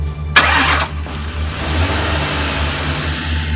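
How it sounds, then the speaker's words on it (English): A car engine cranks but fails to catch, with a sharp start at the beginning and then a steady mechanical drone and low hum that fills the rest of the stretch, close and loud, with no speech. "This car is not starting."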